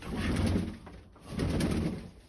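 Low, soft pigeon cooing in two rounded swells, close by, with a faint steady hiss in the background.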